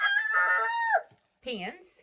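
A Brabanter rooster gives a loud, close crow with a long held note, then after a brief pause a person speaks a word.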